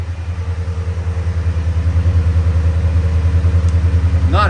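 A 1987 Jeep Grand Wagoneer engine idles nearby with a steady, low, throbbing exhaust pulse that holds an even rhythm throughout.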